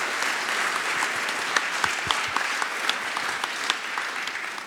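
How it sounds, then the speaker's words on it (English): An audience at a school event applauds in a steady, even wash of clapping, with a few louder individual claps standing out throughout. "Big round of applause."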